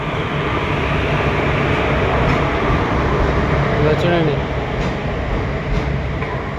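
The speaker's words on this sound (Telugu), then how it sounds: "ఇదిగో ట్రైన్ అయితే వచ్చింది." The Puducherry–Chengalpattu train 17655 rolls into Vijayawada station with a loud, steady rumble of wagons and a low mechanical hum, while a voice speaks briefly close by.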